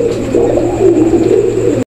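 A pigeon coos close by in low, rolling, throaty notes, one continuous call lasting a couple of seconds, with no talking.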